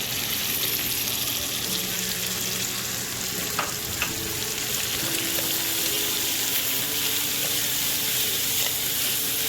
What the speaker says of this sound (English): cook your mixture on medium heat until the onions are nice and translucent